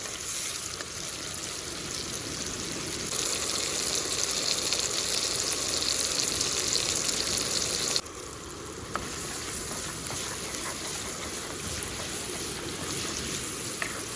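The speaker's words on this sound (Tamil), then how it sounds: "அப்படியே தக்காளி சேர்த்துருவோம் நல்லா வதங்கட்டும்" Tomatoes sautéing in oil for a dry fish curry, a continuous loud sizzle that dips briefly partway through and then resumes, with occasional stirring scrapes and no talk.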